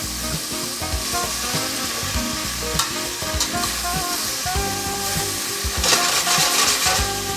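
Potatoes sautéing in a pan as the base of an Indian potato and pea soup: a loud, continuous sizzle and crackle with scraping stirs and clinks throughout, no speech.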